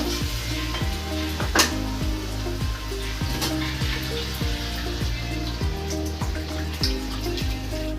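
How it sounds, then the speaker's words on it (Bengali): Water hits a hot pan of cooking mutton, setting off a loud, steady sizzle with stirring and bubbling close by, and no voices. "তো এখন আমি জল দিয়ে দেবো"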